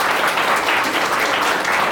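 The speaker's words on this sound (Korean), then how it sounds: "용기의 박수 좀 부탁드리겠습니다." Audience members clap at a Reform Party Seoul chapter meeting on youth employment, a dense, steady round of applause that fills the full two seconds with no speech over it.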